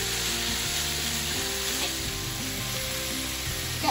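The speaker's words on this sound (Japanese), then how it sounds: "汁気を飛ばしながら、すべての具材に味をつけます" Ingredients fry in a pan as their liquid cooks off, making a loud, continuous close sizzle with occasional stirring.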